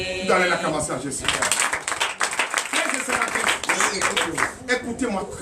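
A church congregation at a Sunday worship and teaching service applauds steadily, the dense clapping running throughout alongside voices and music from the gathering.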